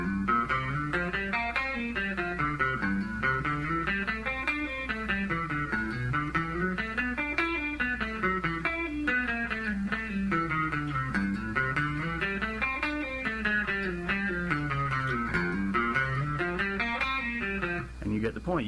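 An electric guitar plays a blues pentatonic progression, rising and falling lines shifting through positions in a steady continuous run with a slightly overdriven tone, loud and alone with no talking.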